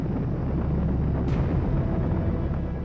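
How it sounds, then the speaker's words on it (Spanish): A loud, continuous rocket engine roar, steady and dense throughout with a brief sharper burst midway, and no voices. "Ruido de cohetes."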